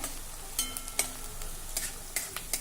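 Onion sautéing on medium flame in a pan for paneer bhurji, a steady soft sizzle broken by intermittent scraping stirs, moderately quiet and close with no talking.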